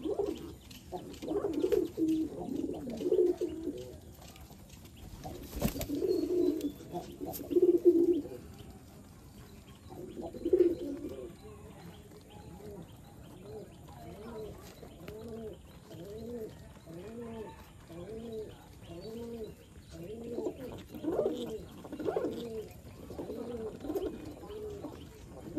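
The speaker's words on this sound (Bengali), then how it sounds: "আমার ব্ল্যাক হোমা কবুতরগুলো অনেক সুন্দর" Black homer and racing pigeons on a pigeon farm in Bangladesh coo in repeated soft, throaty phrases that overlap steadily and sound close by, with a faint voice in the background at times.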